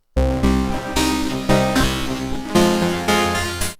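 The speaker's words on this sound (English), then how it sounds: "we're going to sync some LFOs and make some cool rhythmic patches that sound something like this" A loud Waldorf Blofeld synthesizer plays a pulsing, rhythmic arpeggiated patch with synced LFOs in repeating bursts, bright and buzzy, with no voice over it.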